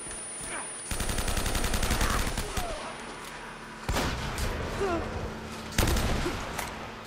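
Gunfire erupts in the Uncharted video game, loud bursts of rapid shots that start abruptly and run for several seconds, separated by short gaps.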